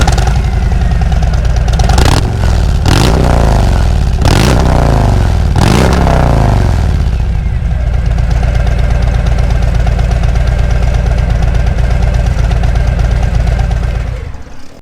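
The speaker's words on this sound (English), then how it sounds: "how about I make you hear the sound of the exhaust of this bike?" Harley-Davidson Road Glide motorcycle with a Reinhardt exhaust revs hard four times in quick succession, then settles into a loud, steady, lumpy idle before cutting off at the end.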